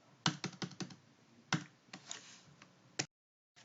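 Several sharp keyboard key presses, a quick burst of clicks followed by a few scattered taps, close and fairly quiet, with a brief silence near the end.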